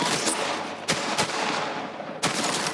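Gunfire in the shooter Borderlands 3, a rapid burst of loud shots with three sharp cracks standing out over the continuous roar of battle.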